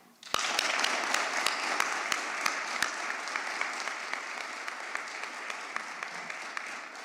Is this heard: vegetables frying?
no